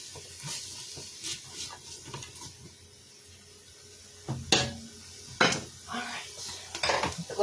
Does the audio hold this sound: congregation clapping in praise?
no